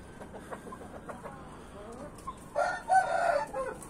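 A large silver hen clucks in a rapid series of soft notes close by on a farm, followed by a louder drawn-out crow from a rooster among the flock.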